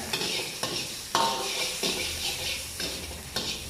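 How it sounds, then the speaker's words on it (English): Prawns and vegetables stirred in a hot pan, giving a steady close sizzle and hiss of frying broken by several sharp scrapes of the utensil against the pan. "You just stir them in the hot pan"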